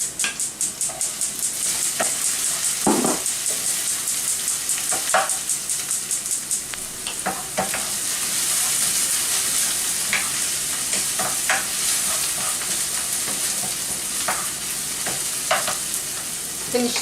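Onions frying in a heated pan while being stirred, a continuous sizzle broken by repeated scraping and clinking strokes of the spoon against the pan, loud and close with no talking.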